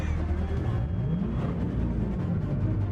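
Chevrolet C8 Corvette engine running at its live reveal event, a low rumbling tone with a rising pitch sweep, heard amid crowd noise and faint talk.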